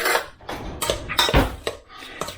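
A spoon stirs homemade tomato pico de gallo in a bowl, giving a quick, irregular series of close clinks and wet scrapes against the dish, heard alone without talk.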